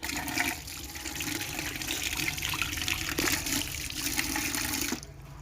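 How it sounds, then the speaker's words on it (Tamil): Running tap water splashes and gushes steadily over a red guava being rinsed, a continuous wash of water that cuts off abruptly near the end, with no talking. "அப்படியே கொய்யாப்பழத்தையும் லேசாக வாஷ் பண்ணிடலாம்."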